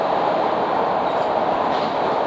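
Loud, constant roar inside a SEPTA Broad Street Line subway car running between Fern Rock and City Hall, a dense rushing rumble of wheels and tunnel noise with faint high squeals.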